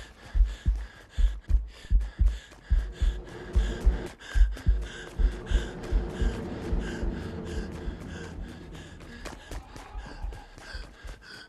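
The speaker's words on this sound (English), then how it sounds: "Follow heartbeat. Where's the heartbeat?" Heartbeat in a Fortnite backrooms map, a steady deep double-thump pulse repeating about twice a second, loud at first then fading under breathy gasps and ambient hum.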